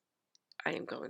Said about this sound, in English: I'm going to shuffle the cards and begin the reading.